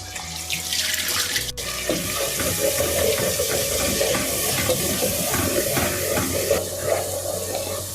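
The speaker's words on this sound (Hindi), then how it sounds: "जब हम मसाला डालते हैं तो उस वक्त ज़रूर इसको भूनते, चम्मच हिलाते हैं" Spices fry in a pan for a potato and egg curry while a spoon stirs them. A steady, dense sizzle and crackle runs throughout, with no voices.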